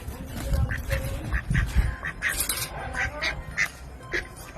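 Ducks quack repeatedly at close range in a lively, irregular series of nasal calls, with low background rumble and no clear talk.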